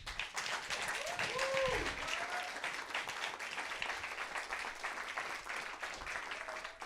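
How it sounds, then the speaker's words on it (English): Audience at a sustainable-transport presentation event breaking into applause, a full, steady roar of clapping from a mid-sized crowd with a few brief cheers or voices rising early on. "Another round of applause."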